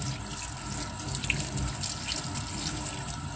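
Tap water runs steadily into a sink as game meat is rinsed under it, a continuous close splashing hiss with no talk.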